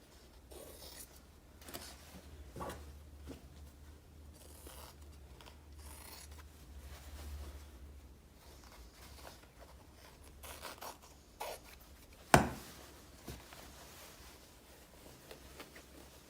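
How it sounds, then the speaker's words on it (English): Scissors snipping through shirt fabric close to the seam, a quiet close-up run of cutting and rustling with one sharper snap near the end, no talking. "you cut really near the seam to get as much fabric as possible out of this."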